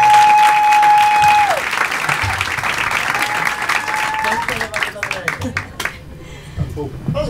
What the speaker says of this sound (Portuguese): Então muitos aplausos para nossa grande amiga Pri Castelo Branco!